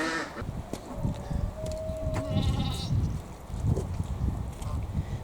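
Goats bleat intermittently on paving stones over a busy farmyard background, with a honk-like call and scuffling noises close by.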